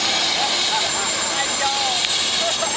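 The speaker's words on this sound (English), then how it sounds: "His first ever helicopter ride." Steady, loud engine and rotor noise fills the cabin during a helicopter ride, a constant wash of sound with a faint whine, while voices murmur under it.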